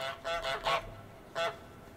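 A cartoon goose from Untitled Goose Game honking into a pipe, a quick burst of three hollow, echoing honks followed by a single honk after a short pause, fairly loud and alone.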